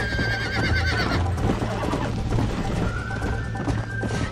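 A horse whinnies loudly in the Red Dead Redemption video game while galloping hooves drum steadily underneath, the neigh rising early and a second softer cry coming near the end.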